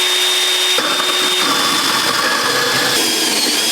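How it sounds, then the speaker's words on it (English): A Hilti Nuron cordless band saw cuts through a workpiece held against a small stop, giving a loud, continuous whining rasp that holds steady for the whole stretch with no talking. "the blade is cutting and pushing the workpiece into this little stop"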